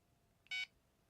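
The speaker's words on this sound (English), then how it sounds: "Beep, that's a good sound." A computer gives one short, clear electronic beep as it powers back up. The tone is brief and fairly faint, set against a quiet background hum.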